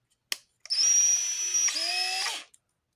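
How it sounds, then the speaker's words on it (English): A handheld power drill spinning up after a click, a whining motor held for nearly two seconds with a pitch shift midway, close and alone, then stopping. "if I take and I go get a drill"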